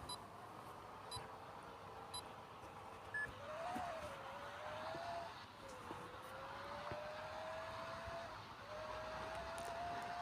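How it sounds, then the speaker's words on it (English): A V10 car engine in the video game Demolition Derby 3 drones steadily with gradual pitch rises and dips as it revs, accompanied by occasional short electronic beeps in the background. "I love that V10 sound"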